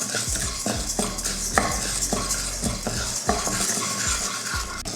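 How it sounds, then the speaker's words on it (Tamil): About 25 grams of toor dal dry-roasting to golden in a kadai for rasam powder, stirred with a utensil in quick, rhythmic scraping strokes close by, each pass rasping against the pan under a faint sizzle. "அதில் ஒரு 25 கிராம் அளவுக்கு துவரம் பருப்பு நல்ல பொன்னிறமாக வறுத்துக்கலாம்."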